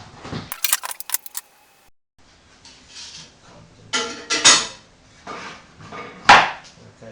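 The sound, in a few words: removing clamps from a glued bandsaw box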